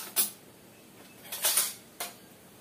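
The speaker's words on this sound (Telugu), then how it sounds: "స్పూన్ తీసుకుందామండి." A metal spoon knocking and scraping against a pan holding fenugreek, pepper, cumin and coriander seeds, three separate clinks and scrapes close by in a quiet room.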